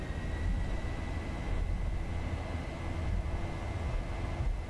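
Boeing 737-900 jet engines at takeoff thrust in the X-Plane flight simulator, a steady broadband roar with a faint high whine, constant and alone with no talk.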